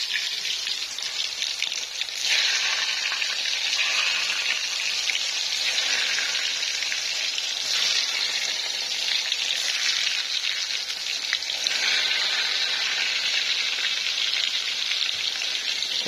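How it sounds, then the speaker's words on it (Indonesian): Tempeh frying in a pan makes a steady, close sizzle and crackle of hot oil, swelling and easing in gentle waves throughout with no voices. "Aku goreng tempe dulu."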